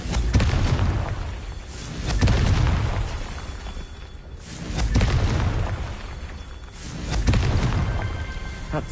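Fiery Confringo spell blasts from the Hogwarts Legacy video game go off as four heavy, rumbling booms spaced a couple of seconds apart, loud and close, each swelling then fading into a roaring tail.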